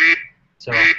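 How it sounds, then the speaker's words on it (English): A duck-quacking alarm from a classroom timer app sounds two loud, nasal quacks separated by a brief gap, with a voice briefly speaking. "And you can also do a duck."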